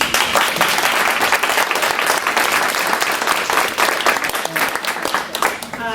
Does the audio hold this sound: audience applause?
yes